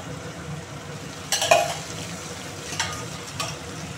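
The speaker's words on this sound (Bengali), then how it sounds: "বেগুনগুলো সেদ্ধ হয়ে গেছে, এবার আমি একে বেগুনগুলো দিয়ে দেব" Boiled eggplants tipped into a pan with cumin powder and stirred for a Bengali begun bharta, a soft background sizzle broken by a few scraping, clattering bursts of the spatula.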